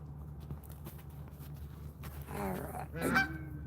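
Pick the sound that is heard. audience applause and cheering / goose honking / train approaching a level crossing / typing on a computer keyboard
goose honking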